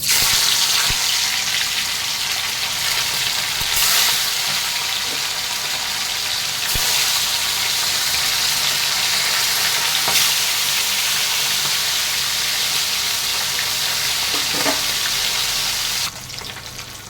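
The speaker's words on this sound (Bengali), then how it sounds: "তেল আমার গরম হয়ে গেছে, আমি মাছ দিচ্ছি।" Pashe fish frying in hot oil in a kadai, a loud continuous hiss and crackle that runs steadily throughout with occasional spatters, close up and alone before easing slightly at the very end.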